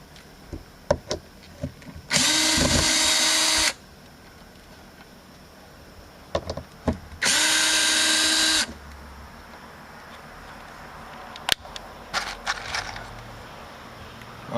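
Power drill driving screws in a very small workshop: two separate whirring bursts of a second or so each, close and loud, with light clicks, knocks and handling noises between them.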